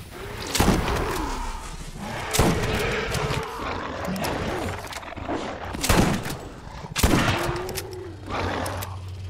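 Gunfire in the Borderlands shooter game, with repeated loud bursts of shots and impacts every couple of seconds, mixed with growling creature sounds and a low engine hum toward the end.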